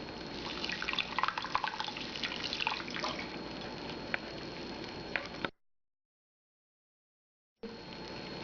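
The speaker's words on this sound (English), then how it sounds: "If we get up close, we can hear the sound of the dry ice." Dry ice fizzing and crackling in a container of water, heard close up as a steady dense crackle with small drips and pops, cutting to silence for about two seconds before resuming.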